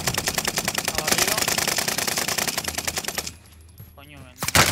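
Rapid machine-gun fire rattles in quick repeated bursts in the video game Warzone, loud and dense for about three seconds before cutting off, followed by a brief lull and a sharp final burst.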